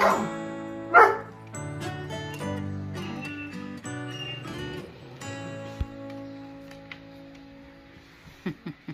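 A dog barks and whines in a high, sing-song way, with short yips trailing off near the end.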